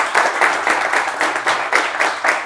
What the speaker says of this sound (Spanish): así que, Ana, vamos a darche un aplauso